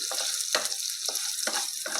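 Small cut potato pieces sizzling and frying in oil in a pan, a steady hiss with intermittent stirring scrapes and crackles, close and alone.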